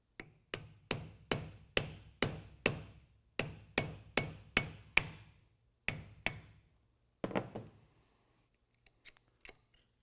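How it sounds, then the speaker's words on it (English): A hammer strikes a flathead screwdriver to split a urethane coil insulator during a 2019 Chevy Silverado 1500 lift install: about a dozen sharp, evenly spaced metallic blows, close and loud, then a few scattered lighter taps with no talk. "We're going to take a flathead screwdriver and a hammer."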